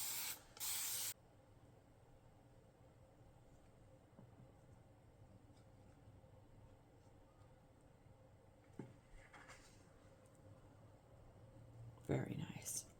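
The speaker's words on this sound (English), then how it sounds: "I'm going to go ahead and give it a quick spray down again" Short bursts of aerosol spray paint hiss onto an Ikea cabinet at the start and end, separated by quiet room tone with faint shuffling in between.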